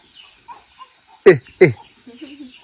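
Agitated chicken at a home yard gives two sharp, loud squawks in quick succession, with faint clucks and rustling before and after.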